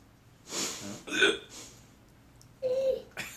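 A little boy gives a few separate voiced hiccups, close and fairly soft, mimicking his dad's hiccups, with short quiet pauses between them.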